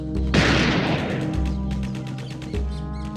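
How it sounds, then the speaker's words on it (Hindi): One sharp, loud gunshot bursts out and rings off into a long decaying tail over a low sustained musical drone. "यहाँ गोलियां चल रही हैं"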